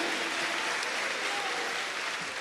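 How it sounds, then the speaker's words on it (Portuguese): Church congregation in Rio de Janeiro applauding, a steady, even wash of many hands clapping throughout, moderately loud and diffuse. "So let's give God a round of applause and sit down."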